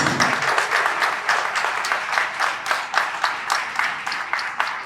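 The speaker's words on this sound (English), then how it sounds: "Round of applause, please." A studio audience on a Sunday television show applauds, producing a sustained round of many hands with rhythmic pulses, loud and even from start to finish.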